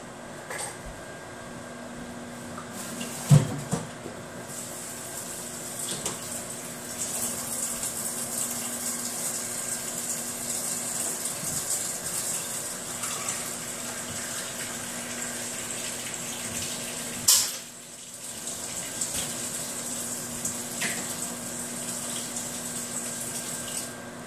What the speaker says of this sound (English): I will go soak all my tools in the sink.